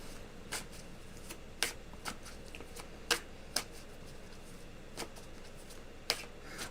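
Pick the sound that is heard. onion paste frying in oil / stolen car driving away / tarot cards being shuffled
tarot cards being shuffled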